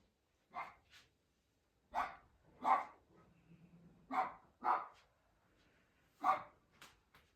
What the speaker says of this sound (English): If you hear some barking